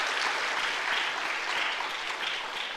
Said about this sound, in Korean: 박수로 한번 축하하겠습니다.